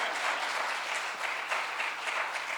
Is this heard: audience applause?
yes